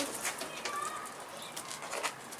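A pigeon beats its wings while coming in to land indoors, a few soft, quick flutters over a quiet room tone, faint and close, with a light coo nearby.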